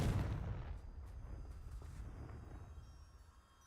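A Confringo fire-blasting spell from Hogwarts Legacy bursts with a loud booming blast at the start, then a rumbling roar slowly fades across several seconds.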